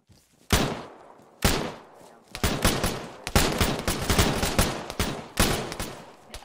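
Gunfire rings out during a military video game operation, close sharp shots and bursts in irregular clusters with brief gaps between them.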